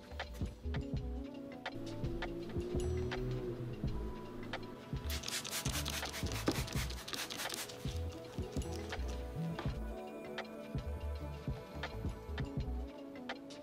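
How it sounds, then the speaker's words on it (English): Steady close rubbing of a clay bar across the painted surface of a Harley-Davidson motorcycle, with soft continuous friction and a low background hum. "take this clay bar, and then we basically have to rub the surface down and get all the surface contaminants off"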